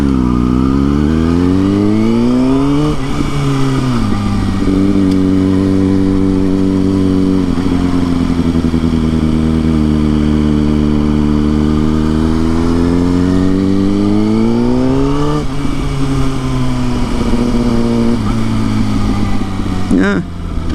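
Motorcycle riding through town traffic in a school zone, engine droning loud and close throughout, with pitch rising and falling smoothly as the rider speeds up and eases off, with wind noise steady underneath.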